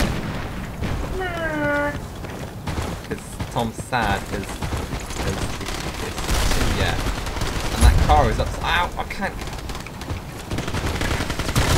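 Gunfire in the online shooter Battlefield Play4Free, with scattered shots and bursts mixed into game noise while a player talks and exclaims over much of the action.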